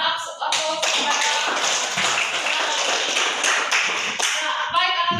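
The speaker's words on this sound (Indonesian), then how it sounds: "Mari kita berikan aplaus kepada." Classroom applause for a student as a whole class claps steadily and densely for about four seconds, then tapers off near the end.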